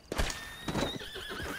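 A horse whinnies in Red Dead Redemption, loud and close, with a rising then wavering neigh lasting about a second and a faint hoof clatter, and no talk.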